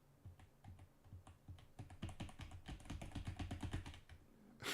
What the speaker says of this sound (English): you're going to hear every keyboard click I do